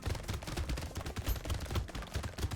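Rapid SMG fire from the arena game Brotato, a dense stream of close, punchy shots running without pause over busy in-game effects.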